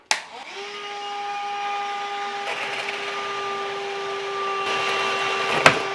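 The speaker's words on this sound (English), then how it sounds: "I was going to try to vacuum as I do it." A vacuum cleaner running while an Arcade1Up Mortal Kombat 4 cabinet is modded: a click, then a steady whining motor drone with a sustained tonal hum, plus occasional knocks and a sharp tap near the end.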